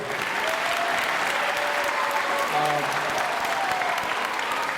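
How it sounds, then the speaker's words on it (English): A room full of people at a school event claps steadily for several seconds, a dense even patter of applause with faint voices underneath. "Give you guys a nice round of applause."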